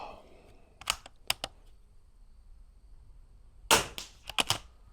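Rifle scope turret clicks on a precision rifle during an NRL22 shooting match, small sharp clicks in two separate bursts, close and crisp against a quiet background.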